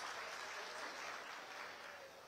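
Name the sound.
audience applause at a political speech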